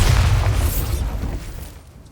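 Bombarda blasting spell cast in the video game Hogwarts Legacy: a loud, booming explosion with a heavy low rumble that quickly fades into a decaying crackle and hiss over about two seconds, with no talking.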